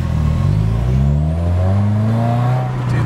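Car pulling hard at wide open throttle, engine drone climbing steadily in pitch across a few seconds, loud and close from inside, with a heavy low rumble underneath.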